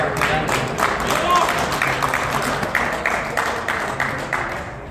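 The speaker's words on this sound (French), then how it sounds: "Vous pouvez l'applaudir" Spectators at an outdoor RC car race clapping steadily after a ranking announcement, a moderate wash of applause with separate claps audible, continuing evenly throughout.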